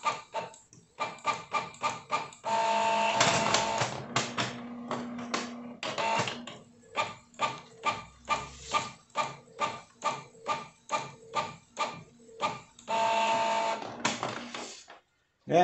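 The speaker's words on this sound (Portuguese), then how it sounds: "A gente vai imprimir agora a PLP" A desktop printer runs off a Shopee shipping label, its rapid stuttering feed pulses and longer whirring passes repeating close by for several seconds, with a voice speaking over parts of it.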